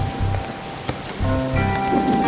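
Heavy rain falling at night in a region where rain is frequent, a dense steady patter close by, with brief tonal interruptions of other sounds mixed over it.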